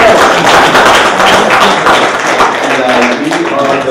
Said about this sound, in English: Everyone clap for Carlos.